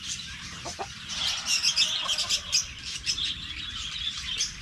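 Chickens of a non-native breed let out of their coop for exercise, clucking and chirping in quick irregular bursts, fairly close and without talk.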